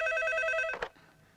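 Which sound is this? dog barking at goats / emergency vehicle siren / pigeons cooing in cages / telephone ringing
telephone ringing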